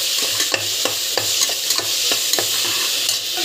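Jackfruit biriyani ingredients sautéed and stirred in a pan: a close, steady sizzle of frying, with repeated scraping strokes of a spoon against the pan at an even rhythm and no voices.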